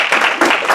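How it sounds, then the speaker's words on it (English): Audience at a semester-closing campus event clapping together, a dense, continuous burst of many hands applauding close by. "So give yourselves a clap. I want to hear a hand clap."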